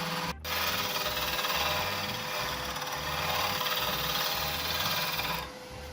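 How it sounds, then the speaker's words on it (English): A wood lathe gouge makes a shearing cut on a spinning cherry burl and metal-flake epoxy shift knob blank for an MGB. The scraping, whirring cut runs steadily for about five seconds with a rhythmic low pulse from the rotation, then stops. "What I'm doing there is called the shearing cut."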